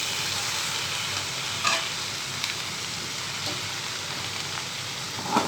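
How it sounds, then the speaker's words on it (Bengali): Okra with onion, chili and garlic stir-frying in oil, giving a steady close sizzle and crackle with occasional sharper pops and stirring scrapes throughout, with no talking. "নেড়ে চেড়ে ভাজা দিতেছি"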